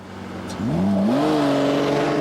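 A fiercely quick car pulls away on a test track lap, engine note rising steeply as it accelerates hard through the gears and stays loud and close, with no talking.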